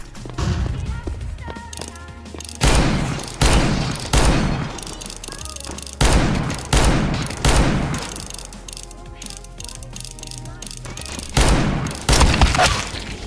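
Counter-Strike 2 gameplay where repeated loud bursts of rapid gunfire and sharp blasts come in clusters, with a flashbang among them and mechanical clatter between volleys.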